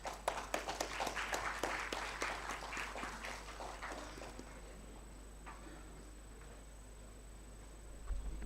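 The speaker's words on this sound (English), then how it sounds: "Please welcome him with a huge round of applause" A symposium audience at an MRI and CT radiodiagnosis workshop gives faint, distant applause welcoming a professor onto the stage; the clapping thins out after a few seconds, over a steady electrical hum.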